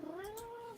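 A cat gives a single quiet meow that rises and then falls, short and alone, with nothing else heard.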